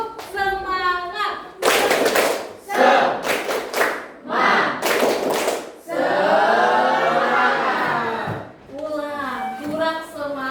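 A class of students does a rhythmic group clap, several bursts of sharp, loud claps in quick succession with voices chanting and calling out before, between and after.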